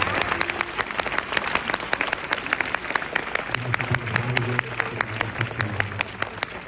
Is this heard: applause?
yes